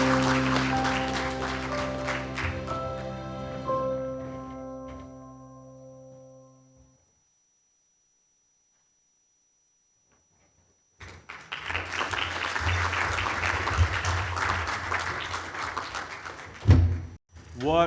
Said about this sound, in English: Ladies and gentlemen, let's give them another round of applause.